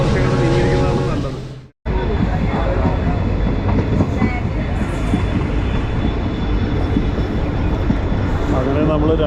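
Local train from Madurai to Ramanathapuram running at speed, heard loud and close from on board: a continuous heavy rumble and rattle of wheels and carriages, briefly cut off near the start, with voices in the background.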